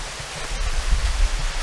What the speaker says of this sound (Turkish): burada da bir şelale aynı şelalenin devamı